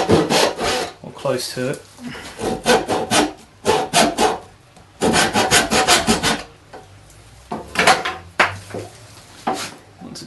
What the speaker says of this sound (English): it might be better just to saw as far as you can